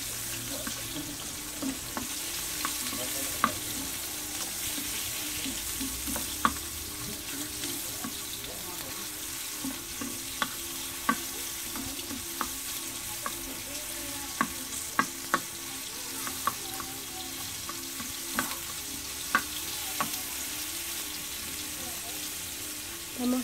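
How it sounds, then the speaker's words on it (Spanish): Tomato and onion sizzle steadily in a hot pan, with occasional scraping clicks of a utensil stirring, close and continuous. "lo que estamos viendo ahí que está friendo es el tomate y cebolla"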